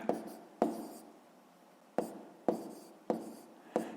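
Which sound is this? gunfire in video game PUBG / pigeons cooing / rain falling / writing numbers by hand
writing numbers by hand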